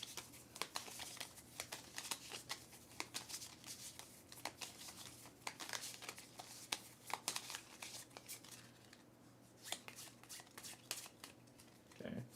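Playing cards shuffled by hand during a Cthulhu Dark Providence board game, a run of quick riffling and crisp snapping bursts close to the microphone over about twelve seconds, with a voice speaking quietly in the background.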